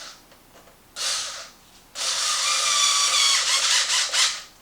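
Power tool driving a suspension bolt on a Traxxas Maxx RC truck, a short whirring burst followed by a longer, loud, close-up buzzing run with brief fluctuations.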